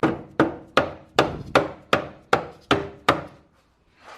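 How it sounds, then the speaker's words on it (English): Eight sharp, woody metallic whacks in a steady rhythm as a hammer beats out a Honda Civic EK hatchback front end, each ringing briefly before the next strike, then a short pause at the end. "I'm gonna take the front end, I'm gonna hammer it out"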